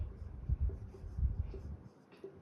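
Pen or marker scratching out numbers of an arithmetic progression on a board or paper, with short rhythmic strokes close up and soft, no voices.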